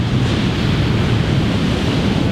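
Steady, loud ocean surf off the coast near Nazaré, with waves breaking continuously and a constant roar of water and wind filling the whole stretch with no pauses.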